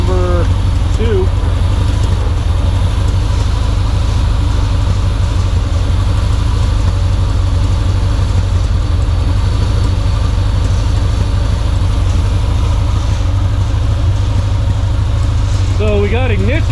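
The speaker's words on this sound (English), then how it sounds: "either injectors or the spark plugs are not firing on two of the cylinders." A dune buggy engine idles roughly while misfiring on two cylinders, a steady loud low rumble that continues throughout with faint sounds over it.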